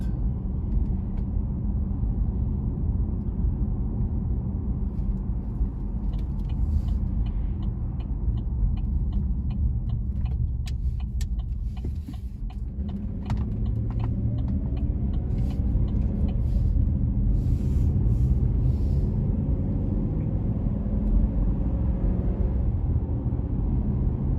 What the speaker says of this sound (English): Traffic's still pretty decent.